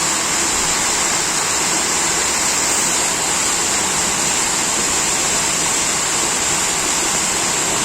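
A steady, loud rush of rainwater roars continuously during a heavy downpour near a car park, like a heavy cascade or torrent close by, with no voices.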